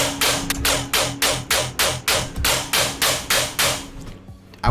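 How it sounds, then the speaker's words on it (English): A rapid synth burst pattern made in Serum with a comb filter and LFO firing in repeated, evenly spaced hits like a machine gun, with a resonant metallic comb-filtered tone, loud and dry, ending abruptly. "using LFO1 with this down shape to create like a machine gun style sound"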